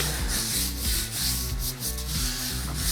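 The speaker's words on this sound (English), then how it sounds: "And just rub it in the meat." Hands rub a coarse seasoning of kosher salt, coarse black pepper and granulated garlic into raw meat, making a continuous close scraping and rubbing sound.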